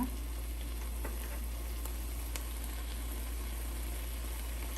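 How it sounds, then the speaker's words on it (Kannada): A spoonful of ghee goes into thick pear and bottle gourd halwa cooking in a pan, giving a steady, soft sizzle under a constant low hum, with a few faint clicks of the spoon. "ಸೊ 1 ಸ್ಪೂನ್ ಈಗ ತುಪ್ಪ ಹಾಕೋಣ"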